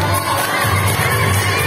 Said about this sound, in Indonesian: Beri tepuk tangan yang meriah buat Ibu Siti Khairia.